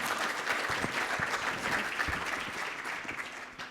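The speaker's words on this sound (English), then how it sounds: "if you wouldn't mind giving Gina a round of applause for sharing her experience" An audience at an annual business meeting and strategy summit gives a steady round of applause, dense clapping from many people throughout, fairly close and loud.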